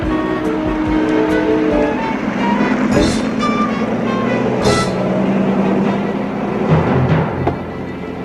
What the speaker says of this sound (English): He just drove away.